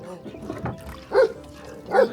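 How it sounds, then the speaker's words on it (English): Dogs kept on a floating house in Bai Tu Long Bay give a couple of short barks and yips, close by, between voices talking. "But they can't move, the dogs."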